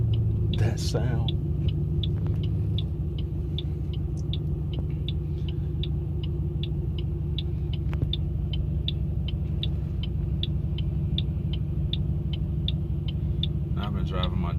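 Ford Mustang GT with SSS Terminators exhaust idling close by, a steady deep rumble holding even for the whole stretch, with a brief voice near the start.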